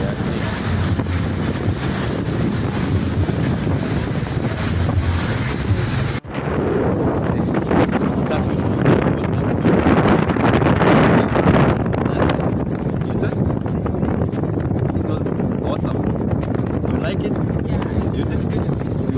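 Steady wind buffeting and rushing water on a yacht cruising off the coast of Kenya, loud and continuous, with a brief dropout partway through and faint voices under the roar.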